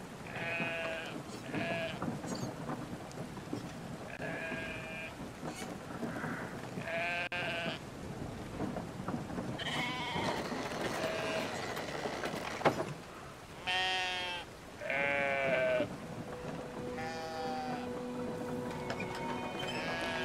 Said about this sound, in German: Was kann er mit den Schafen machen?